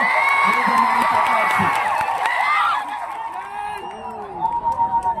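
A large crowd of tribal supporters at a political rally in Netrang cheering and shouting loudly and continuously, with whoops and voices mixed into the roar.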